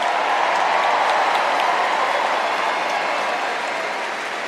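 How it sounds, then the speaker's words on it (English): Steady, dense applause from a circus audience fills the space, loud and sustained throughout, fading slightly at the end. "Give them a round of applause."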